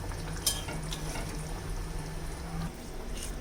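Paneer curry in a pan, just seasoned with ground cardamom, being stirred: a soft, continuous low sizzle with a few light scrapes and clinks, faint and close, no voices.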